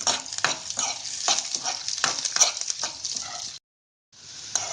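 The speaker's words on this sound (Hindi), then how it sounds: "अब हम डाल देंगे सरसों के दाने और मूंगफली के दाने, चना दाल और उड़द दाल। इसको थोड़ा सा भूनेंगे।" Mustard seeds, peanuts, chana dal and urad dal roasting in a pan for upma, a steady close sizzle and crackle with repeated stirring scrapes, then a brief silence before the frying resumes.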